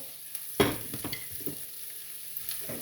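Beef kidneys sizzling in butter in a pan, a steady frying hiss with a sharp clatter of stirring near the start and a few softer scrapes after, close and alone without talk.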